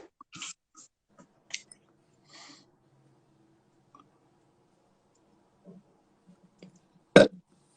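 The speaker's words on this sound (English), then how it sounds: "that was an actual burp" A single sharp, loud burp near the end, close to the mic, after several seconds of faint clicks, breaths and small mouth noises in a quiet room.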